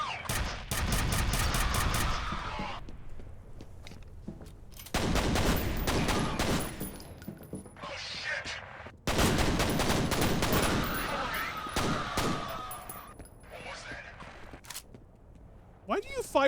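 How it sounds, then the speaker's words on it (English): Pistol fire in the shooter game F.E.A.R., sharp shots in clustered, irregular bursts separated by quieter gaps, with voices talking in between. "fire the pistols in like a weird rhythm in this game"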